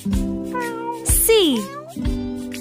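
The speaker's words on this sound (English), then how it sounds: "C is for cat. C, c, c, cat." A cat's meow rises and falls in one drawn-out, fairly close call, set among musical tones from a children's alphabet song.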